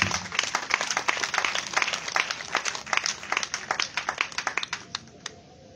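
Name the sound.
congregation applauding and acclaiming the Lord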